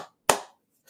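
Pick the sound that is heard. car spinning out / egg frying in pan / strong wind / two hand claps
two hand claps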